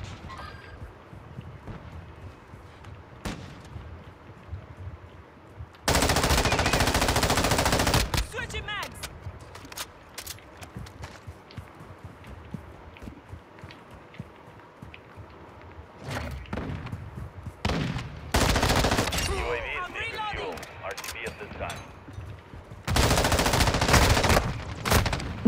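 Bursts of M13B assault rifle fire in Call of Duty: Modern Warfare 2, three loud sustained volleys of rapid shots standing out against quieter game ambience and occasional speech.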